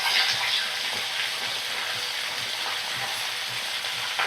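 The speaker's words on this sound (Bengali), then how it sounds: "মিডিয়াম ফ্লেমে রেখে ভাজা করে নেব শিমগুলো" Cut beans frying in a pan over a medium gas flame, a steady dense sizzle running evenly throughout with faint scraping ticks.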